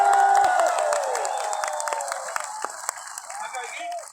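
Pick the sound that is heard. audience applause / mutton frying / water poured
audience applause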